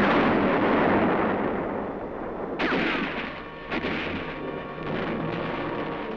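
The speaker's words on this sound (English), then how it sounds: "a Japanese comes into the open, throws a yard-long grenade before being hit" A hand grenade explodes amid gunfire in a jungle ridge battle on Peleliu between Marines and Japanese troops. A dense rumbling din is broken by a sharp blast, then a second, smaller crack.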